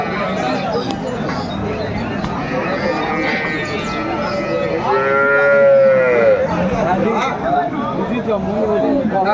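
Cows with their calves moo loudly and repeatedly at a busy rural cattle market in Dinajpur, long drawn-out calls rising above a steady crowd hubbub and nearby chatter.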